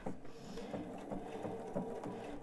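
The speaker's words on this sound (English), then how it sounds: "and do a little bit of back stitching" A sewing machine back stitches along a pillowcase seam, its needle thumping in a quick, even rhythm with several pulses per second, close and fairly quiet, with no voices.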